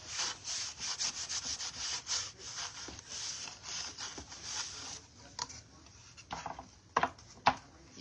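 Wax is rubbed by hand onto a thrifted wooden shelf in quick back-and-forth strokes, a steady scratchy swishing for about five seconds, then a few scattered rubs and taps, close and quiet with no talk.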